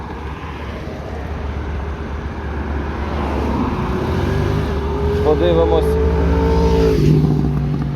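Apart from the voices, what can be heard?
Honda Dio AF68 injector scooter engine running and accelerating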